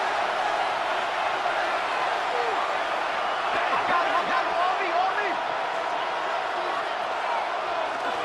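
A stadium crowd at an NFL divisional-round playoff game, Rams at Cowboys, produces a steady, dense roar at moderate level, with a commentator's voice faintly over it.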